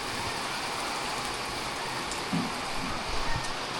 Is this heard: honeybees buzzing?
no